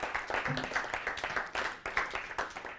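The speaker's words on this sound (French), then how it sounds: "prendre votre trophée sous les applaudissements évidemment du public qui est avec nous ce soir" Audience applause greets a trophy winner at an evening awards ceremony for IT services firms, a dense, steady patter of many hands with a faint voice briefly in the background.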